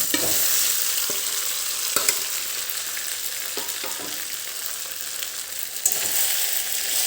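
Chopped cabbage and fenugreek muthiya toss in oil with sesame seeds and asafoetida, a loud, dense sizzle broken by several spoon scrapes and knocks against the pan, with no one speaking.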